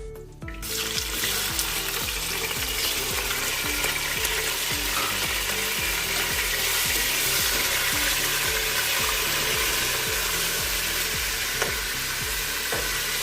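Meat frying in hot ghee for Kabuli pulao, a loud steady sizzle with rhythmic stirring scrapes throughout, close up and with no talking.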